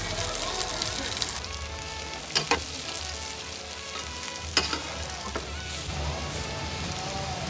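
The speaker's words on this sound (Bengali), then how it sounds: "এর মধ্যে যে চপ ভেজিটেবলসগুলো রয়েছে এগুলো দিয়ে ভালো করে এটাকে ফ্রাই করে নেব।" Chopped vegetables fry with cumin and garlic in a frying pan, giving a steady close sizzle. A few sharp clinks of stirring break through the sound.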